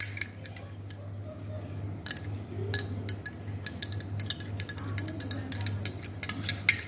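A spoon stirs a pink drink in a glass, making quick repeated clinks and taps against the glass that grow busier toward the end, close up over a low steady hum, with no talking.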